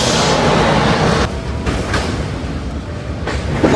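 A train crosses a bridge over the Mahanadi river, a steady loud rumble and rattle of the carriages heard from on board, with no one talking.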